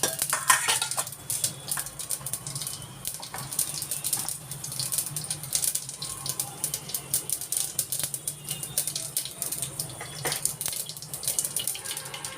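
Mustard seeds with a few grains of urad dal and chana dal sputter in hot oil, making a steady, dense crackle of small pops and ticks that continues for about twelve seconds, close and moderately loud.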